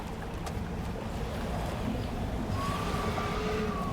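A boat engine hums in the icy waters of the fishing game Dredge, a steady low rumble with wind-like hiss running continuously and evenly, with no speech over it.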